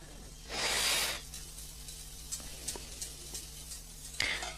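A whisk works an egg into an ice cream mixture, with soft irregular taps and scrapes against the bowl after a short burst of rushing noise.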